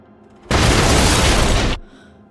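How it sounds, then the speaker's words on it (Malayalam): A huge explosion shakes a house in the Backrooms (2026) film: one loud, sustained roaring blast that cuts in abruptly, holds for over a second, then drops away to quiet. "അതിന് തൊട്ടു പിന്നാലെ ആ വീടിനെ മുഴുവൻ ഉറപ്പിച്ചുകൊണ്ട് വളരെ വലിയൊരു സ്ഫോടനം അവിടെ നടക്കുന്നു"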